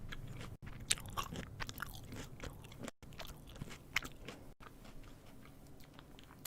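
Crunchy food chewed close to the microphone for eating ASMR, quiet repeated crunching bites and mouth sounds in an irregular rhythm, with brief silent gaps between bursts.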